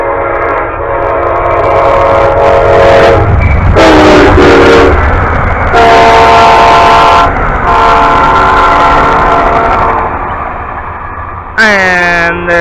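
An Amtrak passenger train rumbles past close by, its horn sounding loudly in several long blasts over the roar of the wheels and cars.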